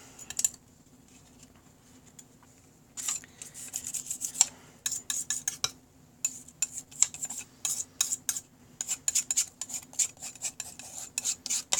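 Paint scraped across a paper tag with a tool, a quiet room broken by bursts of short dry rasping strokes, sparse at first and then in quick repeated runs, close up with no talking.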